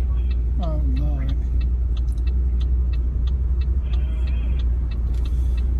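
A 500hp Pontiac G8 GT in traffic gives off a deep, loud, steady engine rumble that fills the cabin, with people talking and exclaiming over it.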